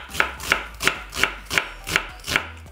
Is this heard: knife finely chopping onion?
yes